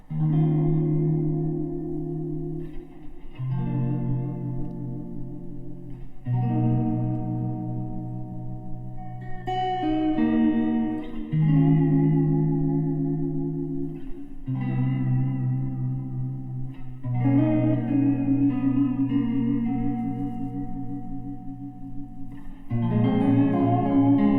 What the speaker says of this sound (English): Next I have Grail Spring, and they kind of added like a nice little flanger effect to it, so I like to use this for spacier stuff.